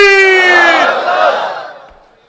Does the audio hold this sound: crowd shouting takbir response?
yes